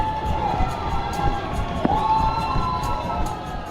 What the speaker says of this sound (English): everyone cheering you on right as you go down a small little tunnel